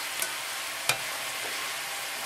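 Duck breast and cherries fry in a pan, giving a steady broadband sizzle with a couple of sharp spatula scrapes or stirring clicks near the start, close and moderately loud, with no talking.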